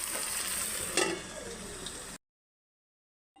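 Shrimp paturi wrapped in bottle gourd leaves fries in a pan with a soft, steady sizzle and a brief louder crackle, then cuts off into silence.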